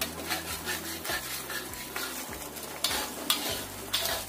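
Hot, thickened sauce, just brought to a boil, is poured from the pan over cassava leaves, giving soft, steady sizzling and scraping with a few louder splashes near the end.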